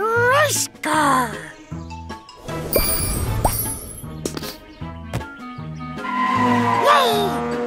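Cartoon race car in a kids' animation, with repeated squealing skids and revving swoops, bright chimes and a busy crash-like rumble in the middle, loud and close, with cartoon voices chattering between.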